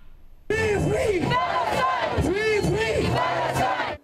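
Protesters in Pakistan chant slogans against Israel over Gaza, a loud crowd shouting in rhythmic unison with repeated rising and falling calls, sustained and close after a brief quiet start.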